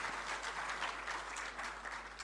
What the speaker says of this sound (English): Shall we please give His Majesty a round of applause, please?